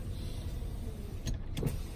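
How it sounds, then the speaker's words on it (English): Quiet electric motor whir of the power sliding rear window on a 2014 Ford F-150 SuperCrew Cab, heard inside the cab, faint and steady, ending in a couple of soft clicks. "So your power sliding rear glass working there."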